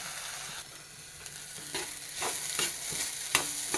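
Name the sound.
dry-roasting grated coconut with cinnamon, cloves, cardamom, fennel in pan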